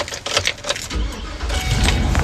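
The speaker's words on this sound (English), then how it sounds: "let's start this this gas guzzler" A large fuel-hungry vehicle's engine is started at night during a mobile roadside tire service, a short crank giving way to a steady low idle rumble up close after some earlier rustling and clinks.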